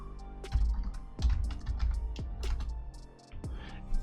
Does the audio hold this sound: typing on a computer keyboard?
yes